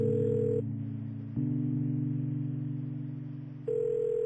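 A phone dial tone in the video game Kathy Rain: a steady electronic hum with a brighter higher tone at the start and end, shifting pitch once midway, with no talk.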